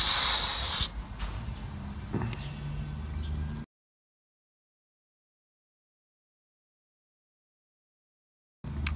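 Air compressor feeding a cheap car tyre inflator, a loud hissing blast of air at the start easing to a steadier rushing hiss, then cutting off into silence before a brief return at the end.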